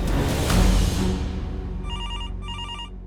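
A telephone rings in two short electronic bursts with a brief gap between them, clear and close, following a moment of muffled background noise.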